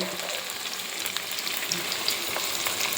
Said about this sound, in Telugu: ఉల్లిపాయలు వేగినాయండి ఇప్పుడు మనం టమాటాలు తీసుకున్నాం కదండి ఆ టమాటాలు ఇందులో వేయండి